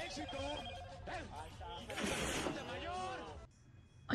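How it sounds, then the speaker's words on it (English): A phone rings in a room under loud, overlapping talk and laughter, its tone faint and partly buried beneath the voices for a few seconds. "Oh, someone's phone's ringing."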